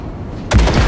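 Gunfire erupts in Cyberpunk 2077 as a ship's weapons blast at wrecks, a sudden loud burst of rapid shots after a quiet lead-in, continuing in a dense rattling volley.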